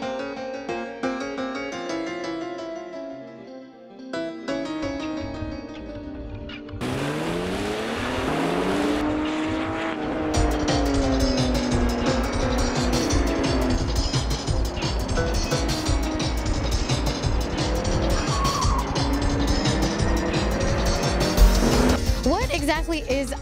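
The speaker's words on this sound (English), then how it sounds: "Autocross is a motor sport that people use the cars they drive to work every day, come out and play in a big empty parking lot." Everyday cars racing at an autocross in a big empty parking lot, engines revving and tires squealing at a fairly steady loud level, mixed with music and a voice talking over it.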